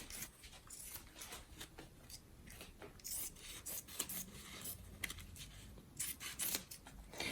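Scissors snipping through the layers of a meltblown face mask, a steady run of close, dry rasping cuts with irregular rhythm and no talk.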